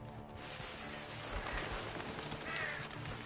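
Crows caw in the Red Dead Redemption 2 video game, several harsh calls over a rustling background, faint and brief with no speech.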